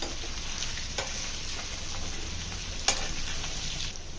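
Chicken pieces fry in hot oil with turmeric in the pan, a continuous dense sizzle with soft stirring scrapes and one sharp clink partway through, close and steady.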